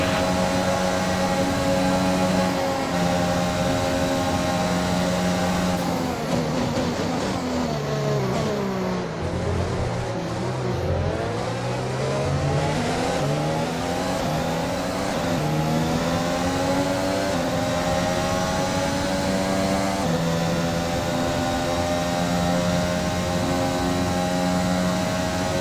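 An F1 car engine in the F1 2021 video game, coming into the pits at the Italian Grand Prix, gives a loud, sustained, high-pitched whine whose pitch dips and rises as it slows and shifts, with no voices over it.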